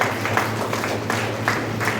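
Audience applause for a student at a school award and memento ceremony, a steady wash of clapping from a crowd filling the short stretch at even loudness.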